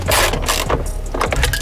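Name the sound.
screwing bolts back in on a Ford Falcon ICC module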